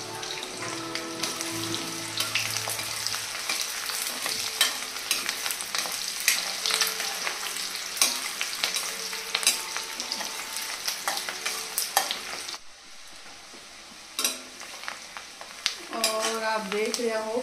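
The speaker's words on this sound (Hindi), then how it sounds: "देख रहे हो प्याज फ्राई हो रहा है।" Sliced onion frying in a pan, a dense crackling sizzle with stirring clatter for about twelve seconds, then a brief lull before the sizzling returns, close and steady.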